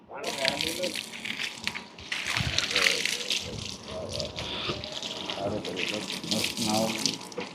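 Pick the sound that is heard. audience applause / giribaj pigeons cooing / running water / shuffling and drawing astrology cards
running water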